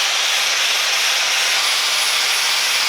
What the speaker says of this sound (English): Time to use a flap disc.